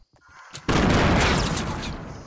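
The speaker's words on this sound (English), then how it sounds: "Stop throwing grenades at me" Grenade explosions in Fortnite: one sudden, loud, close blast lands after a few faint clicks and sustains as a rumbling, crackling roar with debris that slowly fades, with no talk.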